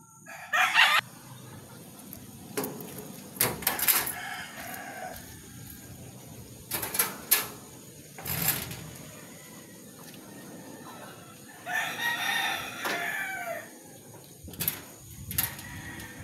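A rooster standing on the underside of a jeep crows several times in short bursts, fairly close, with other clucks and scattered outdoor noises between calls and no talking.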